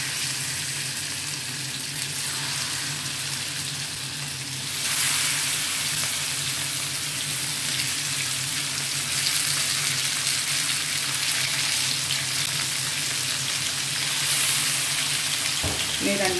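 Prawns frying in a hot pan give a continuous sizzle that swells louder partway through, with a brief clatter near the end.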